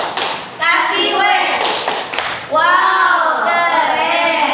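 A class of children doing a rhythmic group 'tepuk wow' clap, loud and close, with claps and shouted voices blended together in chanting bursts.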